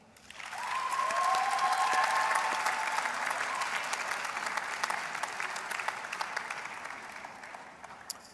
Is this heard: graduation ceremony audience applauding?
yes